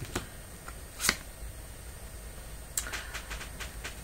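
Tarot cards being cut and shuffled by hand, a few sharp riffling snaps and soft slaps close by, with quiet gaps between them and no talk.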